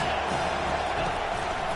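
A stadium crowd at a late-game college football matchup between USC and Penn State roars steadily on a big third down, a dense, sustained wall of cheering with no distinct voices.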